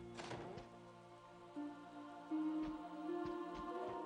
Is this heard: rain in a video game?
yes